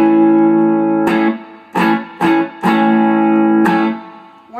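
Electric guitar through an amp set to spring reverb with no distortion, clean sustained chords struck several times in a steady rhythm, each ringing out with a reverb tail, played alone at moderate loudness.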